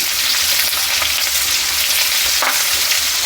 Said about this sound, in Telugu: ఇదే టైంలో ఈ పచ్చిమిర్చి కరివేపాకు మొత్తం వేసేసిన మంచిగా వేపుకోవాలి